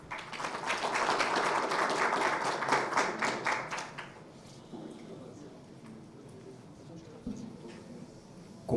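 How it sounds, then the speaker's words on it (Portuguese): Audience at a telecom industry panel session claps as panelists are invited to the stage; a burst of applause holds for about four seconds, then fades into quieter room sound with a voice talking. "Peço uma salva de palmas."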